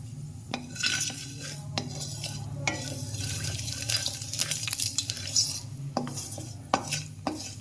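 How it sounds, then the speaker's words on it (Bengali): Five spices are tempered in hot oil in a kadai-style wok, with a metal spoon scraping and clinking against the pan in irregular knocks over a low, faint sizzle. "তো কড়াইতে হচ্ছে কড়াইতে ফোড়ন দেবো, তেলটা আগে ঢালি"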